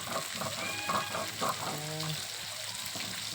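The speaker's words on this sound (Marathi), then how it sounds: "पहिला तवा तर पूर्ण तळतच आलेला आहे" Fish coated with turmeric and salt fries in a pan with a steady close sizzle, while soft background voices and brief tonal sounds drift in over the hiss.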